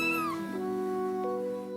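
A kitten being cared for by a nurse meows in a few drawn-out, falling cries, close and clear with no talk over it.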